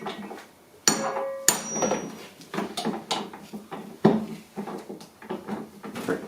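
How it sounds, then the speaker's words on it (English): A hammer-driven impact driver strikes hard on a rusty, tight screw under a toolbox on a 1980 ET340 scooter, with several sharp loud impacts and clattering knocks in an irregular rhythm. "so we'll try the hammer driven impact"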